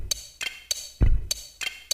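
A drum groove built from sampled Lego brick sounds, processed with compression and reverb, plays crisp clicky hi-hat hits in a steady rhythm around one deeper, thudding kick, close and punchy with no voices.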